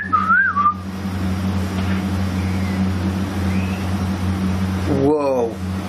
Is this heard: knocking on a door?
no